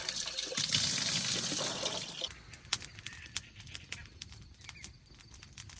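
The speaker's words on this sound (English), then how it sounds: "I'm going to use this water to fill up the pot." Tap water runs into a pot at a roadside camp stop, a strong close splashing stream for about two seconds that then stops, leaving scattered drips and clinks in quieter surroundings.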